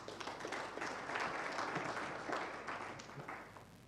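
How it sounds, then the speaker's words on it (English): Audience clapping at a banking conference, faint and distant: a soft, continuous patter of many hands that fades slightly toward the end. "Please clap for them."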